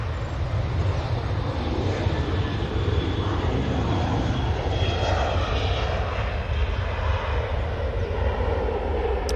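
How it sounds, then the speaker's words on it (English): A TUI airliner passes at Manchester Airport, its jet engines a loud, steady roar that fills the whole stretch without a break. "I can hear a plane. I can hear a TUI."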